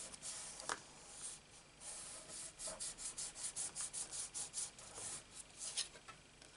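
Wooden planks are rubbed down by hand in quiet, close-up rasping strokes that settle into a quick, regular back-and-forth rhythm midway, with brief scuffs before and after.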